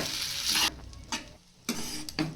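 Vermicelli (shavige) stirred with vegetables in a hot pan, with bursts of scraping and sizzling in several strokes separated by brief quieter pauses, close and with no talking.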